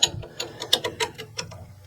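A hand ratchet tightens a bolt on a water circulation pump, giving a quick close series of about eight sharp clicks.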